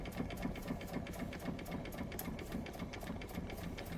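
Restored Doll 387/3 model steam engine running on steam, a fast steady mechanical chuffing and clatter with regular beats, close and continuous throughout with no voices.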